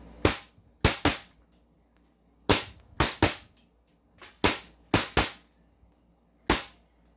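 Airsoft Trex 5.1 Hi-Capa pistol firing about ten sharp, snappy shots at irregular intervals, some in quick pairs, close and loud with no talking.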